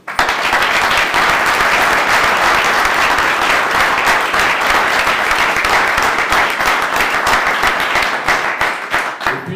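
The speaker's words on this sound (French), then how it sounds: "Et on peut les applaudir." Audience applause for honoured volunteers at a youth, sports and community-service medal ceremony: dense, sustained clapping from a sizeable crowd, loud and steady throughout before easing slightly at the end.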